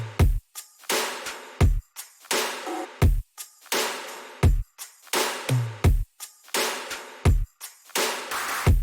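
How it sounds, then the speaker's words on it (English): A simple kick-and-snare drum beat with punchy kicks alternating with bright snare hits, steady tempo, repeating the same pattern throughout with no other instruments, from a remix of a song. "Now let's listen to the drums by themselves."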